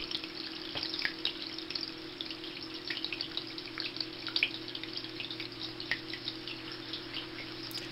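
Water trickles and drips steadily into a self-changing aquarium fed through a ball-valve tap, a close, continuous watery hiss with scattered sharper drip clicks.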